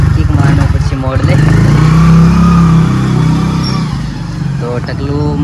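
A Royal Enfield Bullet motorcycle engine running close by with a loud, steady low thump that rises and falls slightly as it revs, continuous throughout.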